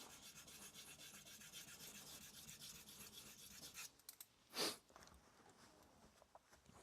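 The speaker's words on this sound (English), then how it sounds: "I'm gonna work that edge all around" A knife edge rubbed on a Japanese whetstone makes a quiet, steady rasping scrape for several seconds, then stops, leaving a brief louder scrape and a few faint clicks.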